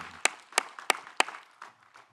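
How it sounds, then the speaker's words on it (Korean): Scattered claps in a church at a Wednesday service, four sharp distinct hand claps at a steady pace followed by a few fainter ones, fairly quiet overall. "주께 영광의 박수 올려드립니다"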